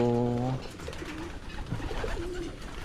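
Pigeons in a loft give a few soft coos, close and fairly quiet, after a brief steady tone at the start, with faint background noise throughout.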